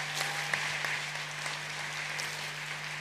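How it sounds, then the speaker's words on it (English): At an African climate change summit in Nairobi, a large audience applauds in a steady patter of many hands, faint and distant in a hall with a low electrical hum. "Another round of applause for President Samia Suluhu Hassan."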